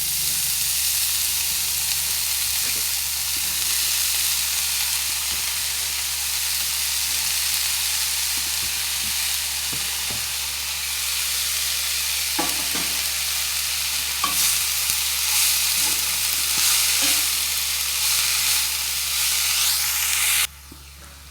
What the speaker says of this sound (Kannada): ಒಗ್ಗರಣೆ ಎಲ್ಲ ಫ್ರೈ ಆಗಿದೆ. ಈಗ ಇದಕ್ಕೆ ಹೆಚ್ಚಿಟ್ಟುಕೊಂಡ ಕಡಲೆ ಸೊಪ್ಪು